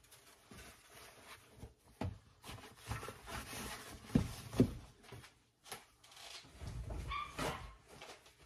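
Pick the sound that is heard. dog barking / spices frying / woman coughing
dog barking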